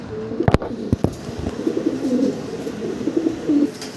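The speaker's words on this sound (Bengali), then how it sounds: "অসাধারণ কিছু কবুতর দেখতে পারতেছেন, গ্রে বারলেস আমেরিকান লক্ষা কবুতরগুলো" Grey barless American lakka pigeons coo in repeated low throaty phrases close by, broken by a few sharp knocks and wing or cage clatters.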